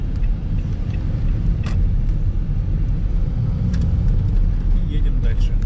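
A car cruising along a highway toward Kemerovo on a long road trip, with a steady low engine and road rumble throughout and brief higher tyre or wind noises now and then.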